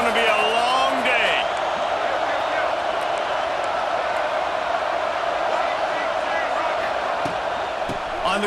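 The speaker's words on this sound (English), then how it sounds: "This crowd, full throat, spreading the eardrums and letting them know it's going to be a long day." Roaring stadium crowd in the video game College Football 26 at a Michigan vs Nebraska game, a dense sustained wall of cheering, with a commentator's voice over it at the start.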